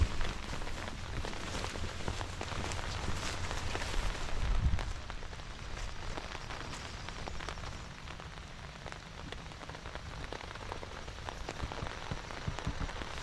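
Steady rain pours over an overgrown mountain trail during a tropical storm, a dense, even hiss of drops striking surfaces close by, holding constant without voices.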